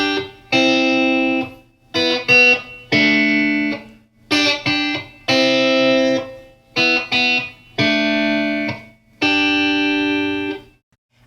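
Electric guitar strummed in a rhythm part, distinct chord stabs in groups with a bouncy accent on the first and third chords, sustained chords between short choppy hits, clear and upfront with effects, no talking.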